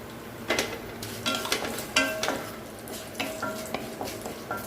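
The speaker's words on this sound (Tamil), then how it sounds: "இன்னும் கொஞ்சம் நல்லா பொரிஞ்சிட்டோம். சென்னாவை ஆட் பண்ணியாச்சு." One-day sprouted chickpeas tossed in hot oil with popped mustard seeds and curry leaves, a close, busy sizzle with several quick scraping stirs and light clinks of a utensil against the pan, no speech.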